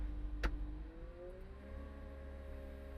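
A Cat small wheel loader lifts its bucket from inside the cab, a low steady engine drone with a rising hydraulic whine that climbs in pitch and holds, after a brief click at the start.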